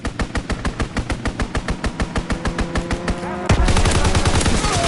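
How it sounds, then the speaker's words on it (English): A fighter plane's strafing run in Call of Duty WW2 lets loose a long rhythmic stream of evenly spaced rapid gunshots, then turns into a dense, louder roar of impacts and explosions. "Fighter aircraft ready. Call for a strafing run."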